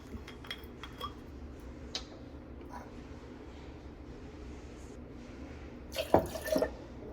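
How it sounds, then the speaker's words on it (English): Apple juice and tequila are poured into a cocktail shaker in a home kitchen: a few faint clinks, then a brief splashing pour near the end against a quiet background. "I'm pouring everything into my shaker."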